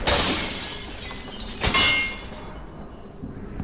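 A glass jar shatters loudly in Dishonored 2, a bright crash followed by tinkling shards and a second smaller break before the debris fades out.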